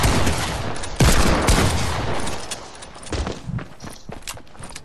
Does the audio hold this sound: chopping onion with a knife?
no